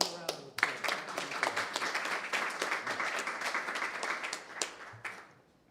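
Audience applause at a board of education meeting, a moderate round of clapping that swells, holds, then thins out to a few last claps, with voices over it.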